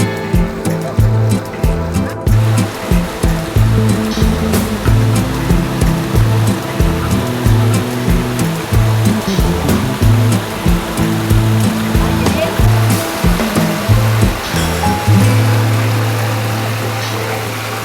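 Water rushes steadily and loudly all around at the Pallebedda waterfall in Sri Lanka, a continuous roar with a regular pulsing pattern running through it.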